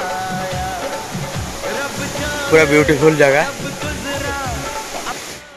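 Sitakunda waterfall at Lulung in Similipal National Park, Odisha, gives a steady, broad rushing hiss of falling water throughout, while someone talks over it.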